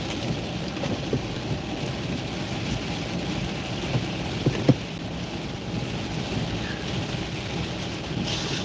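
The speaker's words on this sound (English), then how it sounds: "Look at the rain." Heavy rain drums steadily on a car while driving in traffic, a dense, continuous wash with occasional louder drops and thumps and no talking.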